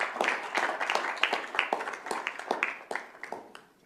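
Audience applause at a school district governing board meeting, distinct individual claps from a modest crowd, fairly close, tapering off toward the end.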